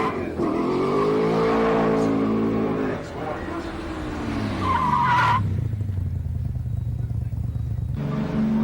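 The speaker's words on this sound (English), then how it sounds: "A good hard burnout to get his tyres nice and hot and sticky" A 1980s street machine with Speedway-style injector air cleaners does a hard tyre burnout, its revving engine rising and falling under continuous loud tyre squeal before cutting out, with a commentator talking over it.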